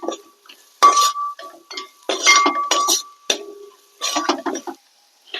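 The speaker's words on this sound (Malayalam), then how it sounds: "നന്നായിട്ട് ഇളക്കാം" A metal spoon stirs spice masala in a pan, giving loud ringing clinks and scrapes against the metal in bursts separated by short pauses, with no sizzle beneath.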